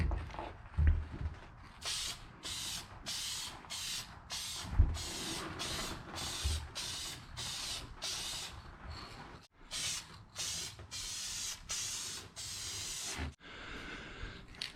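Dupli-Color clear coat sprayed from an aerosol can onto damaged, peeling clear coat: about a dozen short, evenly spaced hissing bursts, close and steady, then a longer final spray.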